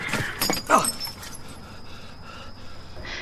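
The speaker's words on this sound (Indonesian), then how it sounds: "Sampai-sampai gelas David terjatuh dan pecah." A drinking glass of tea drops and shatters outside a house: one sharp, bright crash with scattering fragments near the start, then quiet background.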